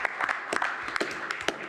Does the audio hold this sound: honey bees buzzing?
no